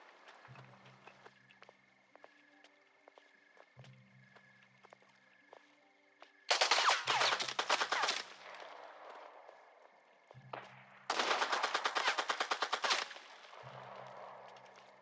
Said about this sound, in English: It's that I'm holding this inaccurate auto pistol to shoot him with.